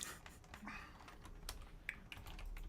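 Keyboard typing during a fantasy football podcast, a quiet, irregular patter of key taps and clicks heard alone at low level, with a couple of sharper strokes.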